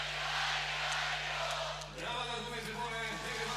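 Spectators at a beach volleyball Grand Slam final in Mazury between USA and Brazil make a broad, fairly distant roar of crowd noise under a steady hum, swelling and shifting as voices rise in the second half.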